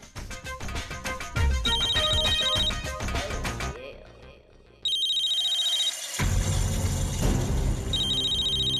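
A phone rings with an incoming call in a TV drama scene, repeated electronic ringtone bursts sounding loud and close over background music, pausing briefly before ringing again.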